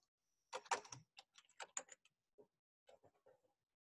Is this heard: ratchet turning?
no